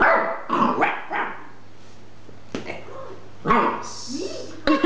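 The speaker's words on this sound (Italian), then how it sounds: "Forse non bisogna farla abbaiare, non credi?" A small toy dog barks and growls in short, sharp bursts indoors, with a few separate yaps spread across the moment and a person speaking between them.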